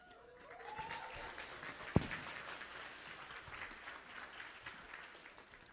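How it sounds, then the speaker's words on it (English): Faint, distant applause from a conference audience in Manila, a soft wash of clapping with one sharp nearby clap early on. "Let's put a hand of applause to Manila."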